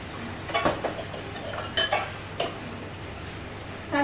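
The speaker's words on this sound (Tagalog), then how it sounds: "walang istorbo sa aking paghuhugas pinggan" Dishes clatter and clink intermittently at close range as they are washed, a few scattered knocks of plates and utensils over a quiet background hiss, with no talking.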